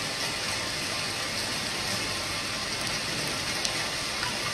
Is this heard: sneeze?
no